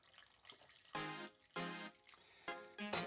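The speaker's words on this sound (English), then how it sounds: "We're gonna pour it into here in this strainer." Rendered beef tallow being poured a little at a time through a cheesecloth strainer, three distinct bursts of splashing liquid alone and close, separated by short pauses.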